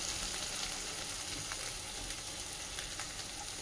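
Vegetables with turmeric stirred in a frying pan, a steady dense sizzle of hot oil with faint intermittent scrapes of a spatula, continuous and moderately quiet.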